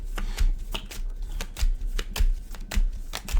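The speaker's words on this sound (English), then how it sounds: "Get 3 good shuffles out of this here." Tarot cards being shuffled in several quick riffled bursts, each a crisp flutter of snapping edges, close and fairly loud with brief pauses between.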